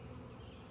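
A swarm of bees clustered on a branch gives off a continuous, faint buzzing drone, steady and unbroken for a brief moment.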